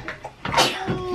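A single short sneeze from a child during hair washing at home, a quick sharp burst close to the mic, with a little background noise around it.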